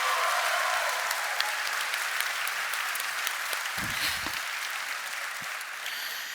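A large crowd applauds at the opening ceremony of the YMCA World Council 2022, a broad, even wash of clapping that holds steady throughout and eases off slightly near the end.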